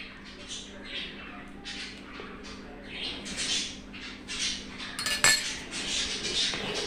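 Biuli dal paste mixed with black cumin is beaten by hand in a bowl, giving a run of soft, quick slapping and scraping strokes with small clinks, fairly close, under a low steady background hum.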